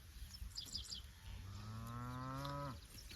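Grass-finished steers in tall, waist-high pasture, one long drawn-out moo rising and then falling, fairly close and clear, with faint bird chirps earlier and no voices.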